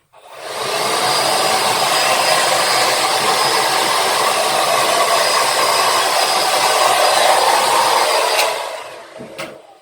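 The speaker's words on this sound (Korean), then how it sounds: "그래서 저는 저녁에는 항상 찬바람으로만 말리거든요." A powerful hair dryer blows on its cool setting, a loud, steady, close whoosh that runs unbroken for about eight seconds before switching off with a faint click.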